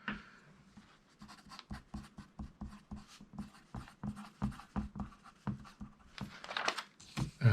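Pen or marker writing dialogue on a storyboard panel, a steady run of short scratchy strokes with brief pauses, close and fairly quiet, ending in a few louder scrapes.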